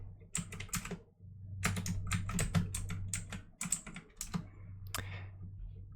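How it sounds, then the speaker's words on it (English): Close-miked clicking of a clacky stock computer keyboard, typed in short irregular bursts separated by brief gaps, crisp and fairly loud against a quiet background with no voices. "It came with the computer, but it's so clacky compared to my old one."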